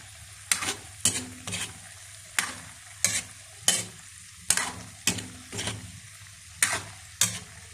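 Menudo stirred in a pan as it dries down with little broth left: about a dozen sharp scraping strokes of a utensil against the pan in an uneven rhythm, close and clear over a low, steady sizzle of frying.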